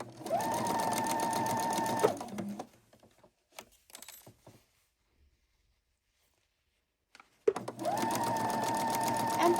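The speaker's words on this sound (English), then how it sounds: "for this quilt, we are using our Husqvarna Viking. And this is a Platinum Edition 755" A Husqvarna Viking Platinum Edition 755 sewing machine stitches a quilt in two steady whirring runs, with a quiet pause between them broken by a few faint clicks and handling sounds.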